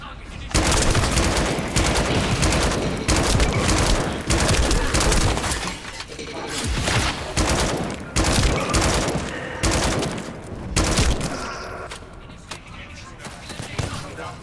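Video game gunfire rattles in dense automatic bursts and rapid volleys, loud and close, with short pauses between strings of shots and someone talking over parts of it.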